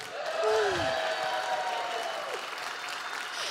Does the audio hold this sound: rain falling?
no